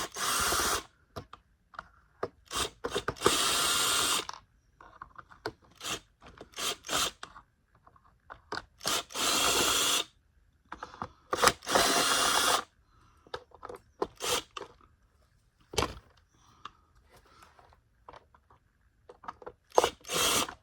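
A power drill whirs in repeated short bursts while backing screws out of a Bissell CleanView Rewind Pet vacuum, close and fairly loud, with quiet pauses and small handling clicks between runs.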